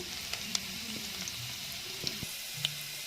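Ginger sautés in a pan for a mushroom curry, making a steady close sizzle with faint clicks of stirring and no voices.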